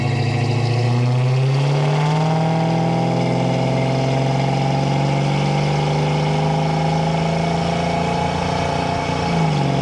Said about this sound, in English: Exhaust sounds good, it's not too terribly loud.